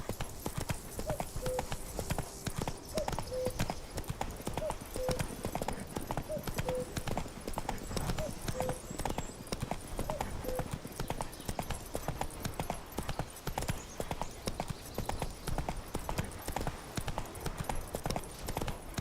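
In The Witcher 3, a horse gallops with a steady, rapid hoofbeat rhythm that carries on without a break. A faint tonal game sound sits underneath the hooves.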